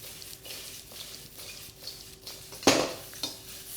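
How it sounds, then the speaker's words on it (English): Chop suey vegetables with baby corn are stir fried in a pan, heard as light scraping and tapping of a utensil against metal, with one sharp louder clatter partway through over a faint sizzle. "keep that stir fry going"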